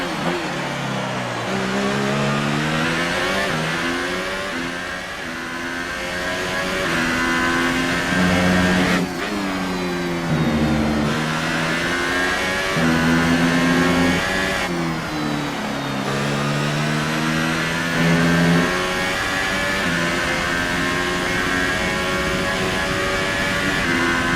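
An F1 race car engine in F1 2018 screams through repeated upshifts, each rising whine climbing in pitch and then dropping as the next gear engages. The sound is loud, close and continuous, with no talk over it.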